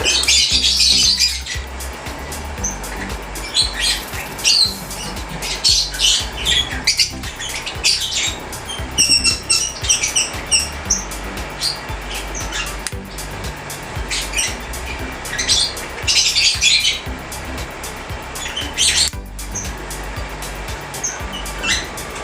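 A long-beaked pet bird gives scattered sharp squawks and chirps during a beak trim, with rustling and handling noise between the calls.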